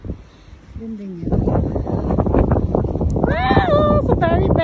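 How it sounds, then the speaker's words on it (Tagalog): Strong wind buffets the microphone on Katsuura beach with steady low rumbling gusts, while voices exclaim loudly over it. "So very lakas ang hangin."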